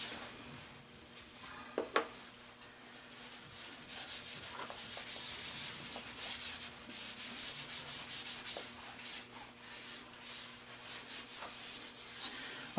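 A steady soft shushing rub as finish is worked into spinning green wood on a lathe at slow speed, a continuous close friction hiss with a few small bumps and no talking.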